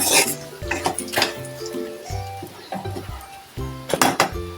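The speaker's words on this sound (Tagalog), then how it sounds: "at haluin na natin yung karne sa bawang at sibuyas" Meat being stirred with garlic and onion in a metal pan while cooking adobong sitaw, repeated clinking scrapes of a utensil against the pan in an uneven rhythm over a faint sizzle, close and alone.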